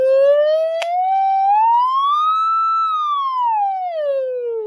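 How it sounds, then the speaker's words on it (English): Pure tonal bell-like tone with harmonic overtones whose pitch glides steadily upward, peaks, then falls again, loud and continuous, alone with a brief click near the start. "And this is the pitch increasing."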